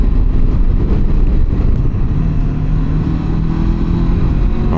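A 500cc touring motorcycle engine roars loud and close as the throttle opens, a dense steady drone with a slight easing toward the end, heard while riding on a road.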